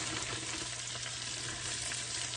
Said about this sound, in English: I'm going to saute these for a few minutes